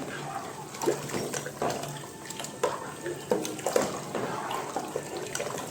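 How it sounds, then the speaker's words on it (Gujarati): Water splashes and pours into a pot of toor dal up close, with small knocks and sloshes scattered through the steady trickle. "આપણે બે ત્રણ ગ્લાસ પાણી નાખશું"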